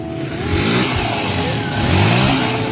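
A Honda TMX 125 Alpha motorcycle fitted with a Yutaka power pipe revs up close, giving a loud, rough mid-pitched engine roar that surges twice.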